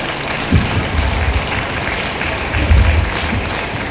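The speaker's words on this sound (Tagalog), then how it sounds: "Grabe po yung palakpak niyo sa Diyos." Church congregation applause during a Christian service, loud and sustained throughout, with a few sharper bursts and low rumbling underneath.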